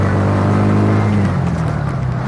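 A TVS King auto rickshaw engine runs loud and steady close by, its drone holding one pitch and then dropping lower about halfway through as it shifts into third gear.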